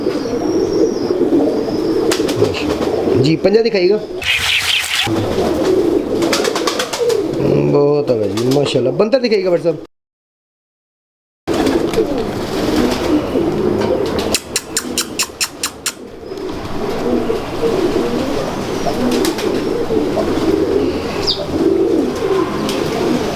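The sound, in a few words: pigeons cooing on rooftop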